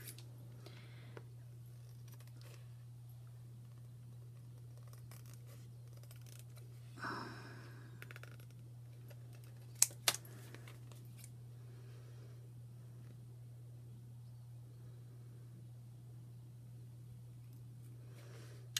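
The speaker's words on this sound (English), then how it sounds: "I'm going to do it with the scissors" Scissors cutting through plastic packaging on a watercolor paint set give a few faint, sparse snips and crinkles over a steady low hum in a quiet room.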